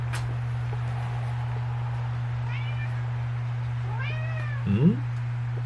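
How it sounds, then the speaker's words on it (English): A cat meows a few times, faint at first, then a louder, closer meow near the end over a steady low electrical hum. "Come on. Kitty, kitty. Meow."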